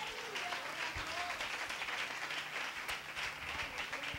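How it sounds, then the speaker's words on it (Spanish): A church congregation claps in steady, moderately quiet applause that continues for several seconds, with a few voices murmuring underneath. "Dale un aplauso al Señor."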